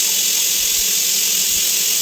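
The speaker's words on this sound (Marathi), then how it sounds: "कुकरला चांगल्या 2 शिट्ट्या काढायच्या" A pressure cooker holding squid masala with kokum vents steam in a steady, loud, unbroken hiss that lasts throughout, with no talking.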